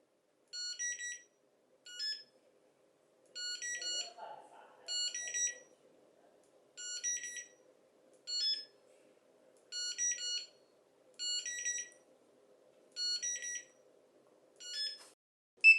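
A Cino barcode scanner's buzzer set to its extremely high tone gives a series of short, shrill beep clusters, about a dozen spaced roughly a second apart, with a faint rustle of handling beneath.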